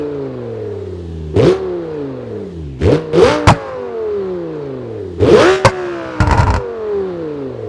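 A custom-modded car engine in BeamNG.Drive revs repeatedly, each blip rising sharply then winding down, with several bursts of revving separated by idle stretches, loud and close.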